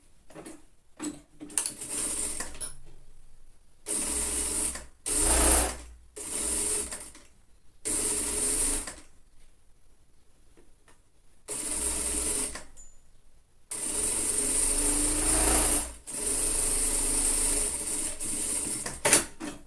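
A sewing machine joins the lining pieces of a children's jacket with a 1 cm seam allowance, whirring close in bursts of several seconds separated by quiet pauses, with no talk.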